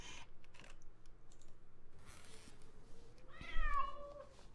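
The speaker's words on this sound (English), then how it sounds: "Just a cat." A cat lets out a single rising meow near the end, preceded by soft clicking and tapping sounds in a quiet room; the call is fairly close and moderately loud, with no talking.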